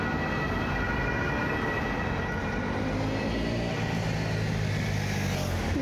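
An ambulance siren passes on a Stuttgart street near a construction site, its wailing tones sliding and shifting over steady traffic rumble, fairly loud and continuous throughout.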